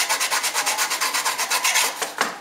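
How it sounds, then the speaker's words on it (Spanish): Steady back-and-forth sanding strokes rasp against an MDF panel, about seven per second, loud and close, slowing and breaking off near the end. "Van a lijar"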